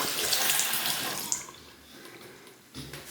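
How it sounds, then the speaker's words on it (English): A bathroom faucet runs with both handles on during a bathroom demolition, giving a close, steady gush of water that cuts off after about a second and a half, leaving quiet room tone and a faint knock. "turn both handles of this faucet on"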